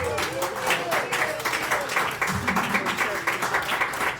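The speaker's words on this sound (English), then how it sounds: "So another round of applause, folks." A crowd at Arrowsmith's Wine Bar applauds speaker Dominic after a talk on disability and misconceptions. The clapping is steady and sustained, with voices and cheers mixed in throughout.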